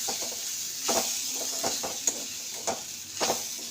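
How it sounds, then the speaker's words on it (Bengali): Semolina for upma dry-frying in a pan while being stirred, a soft steady sizzle with repeated scraping strokes of the spoon at an uneven rhythm, close by and fairly quiet. "তো ভালো করে মিলাবেন যেন সুজিটা ভালো করে ভাজা হয়।"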